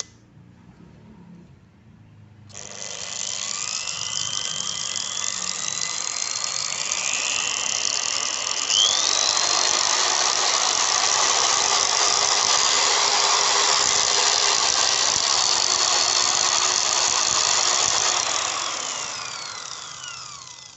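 An M2340V variable speed grinder whirs loudly and steadily for about fifteen seconds, its pitch climbing as it speeds up, then winds down and stops.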